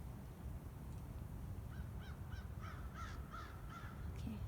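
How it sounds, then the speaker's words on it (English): Crows caw in the trees, a run of short repeated calls at a moderate distance over a constant rumbling outdoor background, with no speech. "Birds in the trees."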